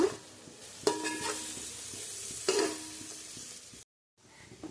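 Masala sizzles and fries in oil for prawn fried rice, with a spoon stirring through it; scraping strokes land near the one and two-and-a-half second marks, then a brief silence before the frying resumes more quietly.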